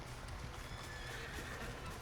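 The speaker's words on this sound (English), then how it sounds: "And then call the horse, and the horse should come up behind us here." A called horse in a hunting video game neighs and whinnies while its hooves clip-clop as it gallops up from behind, a steady, fairly quiet run of hoofbeats and calls with no talk over it.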